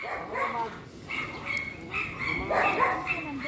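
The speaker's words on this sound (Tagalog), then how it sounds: "Si Delilah, yung aso ni ano" A dog being walked outdoors, its small yips and barks rising at intervals amid a busy mix of people calling and chatting nearby.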